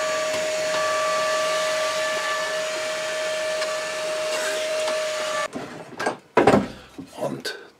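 A biscuit joiner's motor runs with a steady, loud whine for about five seconds while it mills dowel slots into wood, then cuts off, and a voice follows.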